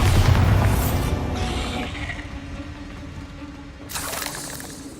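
Fiery spell blasts burst through a dungeon catacomb in Hogwarts Legacy, a loud rumbling explosion tailing off into crackling debris, followed by a second sharp burst near the end.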